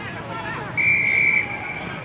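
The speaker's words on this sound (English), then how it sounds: "we have a whistle as Matt Byrne, one of our 2 umpires" An umpire's whistle shrills once, a sustained high blast of about half a second at an Australian rules football match, over crowd murmur and commentary.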